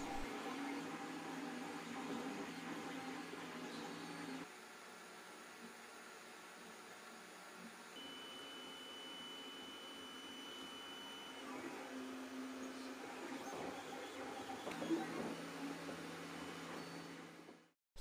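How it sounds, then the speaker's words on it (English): A 3D printer prints robot parts with a steady mechanical whir and hum, its motors shifting pitch between passages, alone and at moderate level until it stops abruptly. "Let's get on with the 3D printing of the parts"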